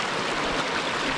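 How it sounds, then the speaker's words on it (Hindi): Water rushes without a break at Kaaterskill Falls in New York State, a dense, steady, fairly close wash of flowing stream noise with no voices. "ये पानी की नेचुरल आवाज़ सुनो तुम"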